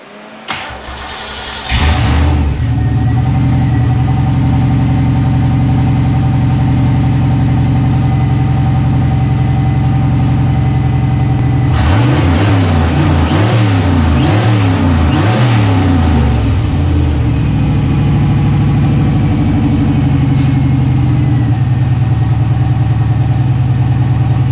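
A turbocharged junkyard GT40 engine cranks, catches and settles into a loud, rough idle, then revs hard several times in a burst before dropping back to a steady, throbbing idle, with no voices.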